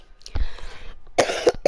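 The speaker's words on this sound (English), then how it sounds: "So I do apologize for my coughing." A person with asthma and bronchitis coughs several times in quick harsh bursts, close to the microphone, with a throat-clearing sound between.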